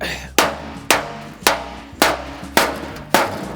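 Six sharp metallic blows of a small hammer at a steady rhythm, close and loud, straightening a Hyundai's sheet-metal fender, with brief ringing after each hit.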